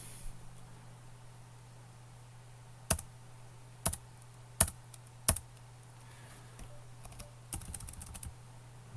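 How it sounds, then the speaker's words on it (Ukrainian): A few sharp, separate keystrokes on a computer keyboard while a sudo command and password are entered in Ubuntu. The clicks are close and moderately loud and come in a sparse, uneven rhythm over a quiet background hum. "пишемо sudo, щоб від імені адміністратора виконувати. Enter, пароль."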